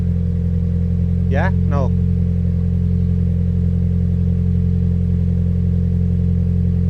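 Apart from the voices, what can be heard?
Toyota GR86 engine revving with Akrapovic exhaust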